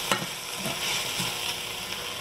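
Korean pork belly frying in a pan, a dense, constant sizzle close up, punctuated by a few scraping stirs of the utensil.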